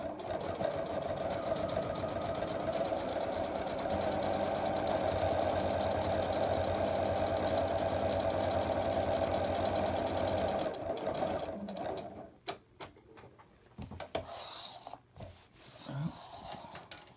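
A sewing machine in need of servicing hums and rattles steadily for about eleven seconds, then stops. Faint handling noises follow.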